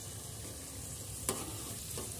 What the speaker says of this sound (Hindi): इसी तरीके से सबको फ्राई कर लेंगे हम।